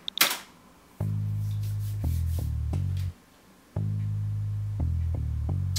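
Equalized bass guitar in a mix, deep sustained bass notes played in steady blocks with short gaps, loud and alone, a brief click at the very start.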